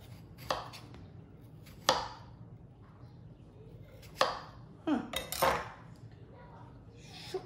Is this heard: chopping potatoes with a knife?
yes